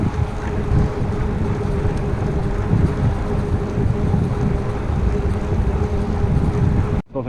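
Strong wind buffets the microphone while cycling into a headwind, a steady loud rumbling roar that continues unbroken before cutting off abruptly near the end.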